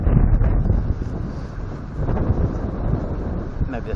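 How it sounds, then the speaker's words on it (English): Wind buffets an action cam microphone outdoors, a loud, continuous low roar with gusting surges and no break. "Oh god, that wind is really rolling in."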